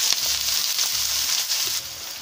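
Chopped onion dropped into hot oil with mustard and fennel seeds, a loud continuous bright sizzle close by with faint stirring knocks, no talking.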